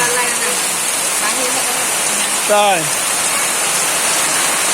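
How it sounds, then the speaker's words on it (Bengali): Heavy, steady rain hisses loudly throughout, with a brief spoken word and some voices rising over the downpour. "প্রচুর বৃষ্টি। বৃষ্টির শব্দের জন্য আমাদের কথাগুলো শোনা যাচ্ছে না"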